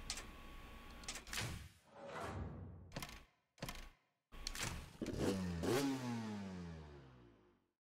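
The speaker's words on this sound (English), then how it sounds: "I hear the vroom vroom." A motorcycle engine in the Trials Evolution video game gives a brief rising and falling rev after a series of dull thunks and short gaps of silence, with no voices.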